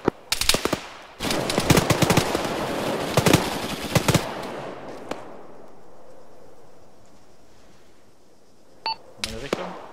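Rapid bursts of gunfire in the video game Arma 3, loud and dense for several seconds, then fading to quiet with a few brief electronic blips near the end.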